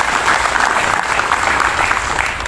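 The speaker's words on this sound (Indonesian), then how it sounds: "Tepuk tangan untuk PC Pasuruan." An audience at a Banser training event in Pasrepan breaks into sustained, dense applause, loud and close, a steady wash of clapping hands throughout.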